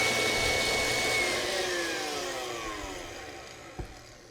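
An electric mixer whipping cream in a bowl, a steady whirring drone whose pitch slowly falls as it winds down, with a single soft knock near the end.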